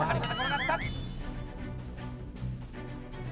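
A horse whinnies loudly in the Japan World Cup horse racing video game, its wavering neigh rising and falling near the start over continuous game sounds and background noise.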